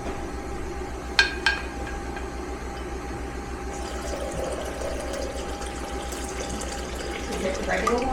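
Filtered water, room temperature, is poured or run for sourdough dough as a low, steady splashing flow under background hum, with a few sharp clinks and people talking quietly nearby.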